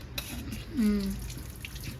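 Water runs steadily from a tap while a new clay pot is washed, a soft continuous splash with a brief tonal gurgle as the stream shifts, and faint talk close by.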